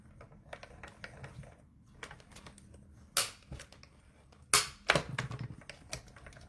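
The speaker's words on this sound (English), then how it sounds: "we're going to run it through the die cutting machine" A die cutting machine presses a die through cardstock, giving a run of close, sharp clicks and cracks that build into two loud snapping bursts and then a dense crackle near the end.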